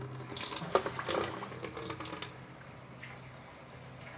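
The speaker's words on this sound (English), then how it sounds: "And there's the filtered water." Filtered water pours out of a bucket into a container outdoors, splashing in an uneven stream for about two seconds before trailing off into quieter trickles, with a low steady hum underneath.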